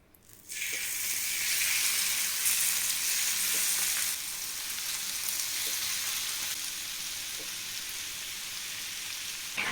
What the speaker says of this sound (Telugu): ఇప్పుడు మసాలా కలిపి పెట్టుకున్న ఫ్రాన్స్ని అయితే ఆయిల్లో వేసేద్దాం